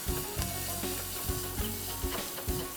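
Garlic and ginger paste with asafetida sizzle in a hot oil tadka for Indian dal, a close, dense crackle with periodic stirring scrapes and taps.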